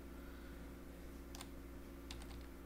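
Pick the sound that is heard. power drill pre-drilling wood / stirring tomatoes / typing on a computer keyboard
typing on a computer keyboard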